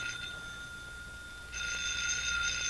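A telephone bell rings in an old radio drama, a steady metallic trill over a faint background hiss. It rings once, then a second louder ring follows with no pause between them.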